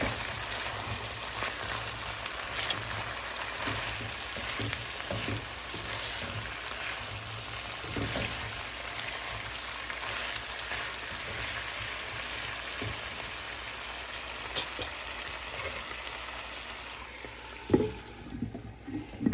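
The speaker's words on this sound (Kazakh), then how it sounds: "Осылай жақсылап қуырып аламыз бірінші." Potatoes fry in a pan with a steady, close sizzle and crackle throughout, plus a few louder pops and utensil clinks near the end; no one speaks.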